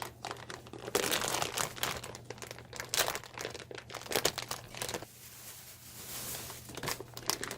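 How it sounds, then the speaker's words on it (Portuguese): A plastic mushroom grow bag has its top cut open, giving bursts of close crinkling and tearing plastic over a steady low hum, with a quieter stretch midway and no talking. "vamos começar cortando a parte de cima da bolsa"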